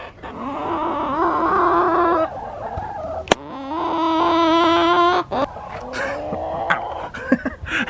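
Contented hens out in good weather make long, drawn-out melodic calls, loud and close, several in a row with brief pauses and a sharp click between them.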